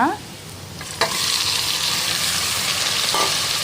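Loud, steady sizzling of chicken frying in a hot pan, with a sharp burst as the chicken hits the oil, then continuous crackle.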